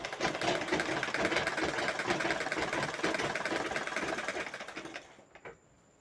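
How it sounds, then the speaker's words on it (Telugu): A sewing machine runs steadily for about five seconds, double-stitching along the round neckline of a lined blouse, a close, continuous rattling hum that slows and stops near the end. "ఇప్పుడు నేను దీనిపైనకించి డబల్ కుట్టునైతే వేసుకుంటున్నాను"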